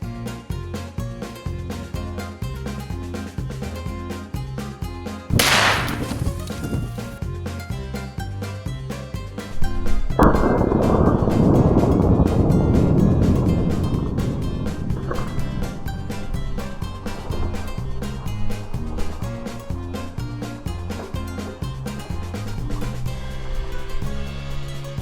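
A rifle fires a Barnaul .223 62-grain hollow-point boat-tail steel-cased round into an 18-liter water bottle: one sharp, loud shot cracks out early, followed by a second broad burst that decays slowly, all under steady background music.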